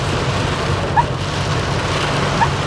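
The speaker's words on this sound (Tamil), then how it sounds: "விழுந்தோண்டே இருக்கும் மழை" Steady rain falls on a hillside route, a dense even hiss with a low rumbling undertone that holds throughout, with no voices.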